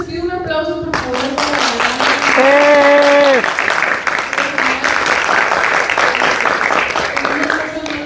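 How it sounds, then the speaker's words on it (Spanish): Audience applause fills a Spanish-language panel event on thinking, sustained and fairly loud for about eight seconds, with tonal voices or cheers rising over the clapping before it fades. "Les pido un aplauso, por favor."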